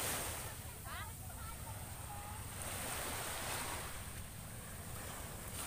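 Waves and steady wind at a beach in the late afternoon, a constant rushing surf roar with wind buffeting the microphone, and a brief faint chirp or voice early on.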